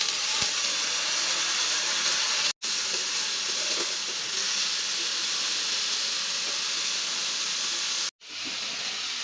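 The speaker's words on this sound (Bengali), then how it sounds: "উস্তাগুলো পাতলা করে কেটে নিয়েছি, দিয়ে দিলাম উস্তা ভাজি।" Thinly sliced bitter gourd sizzling as it fries in a pan, a loud continuous hiss of hot oil heard close, broken by two brief cuts.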